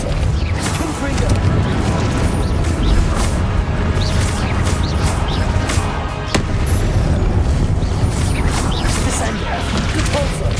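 Repeated Confringo blasting spells burst in Hogwarts Legacy, a dense, continuous run of booming explosions and crashing impacts mixed with other spell effects, while a voice keeps talking over the combat.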